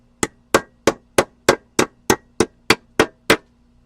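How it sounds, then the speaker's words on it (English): Eleven sharp, evenly spaced hammer blows ring out on a silver spoon clamped in a vise as it is bent into a ring, close and loud with no talking. "I'm going to tighten that up and then I'm going to pound that over"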